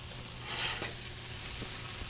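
Fried rice being stirred and frying on a Blackstone griddle, a steady close sizzle with faint scraping of the spatula throughout.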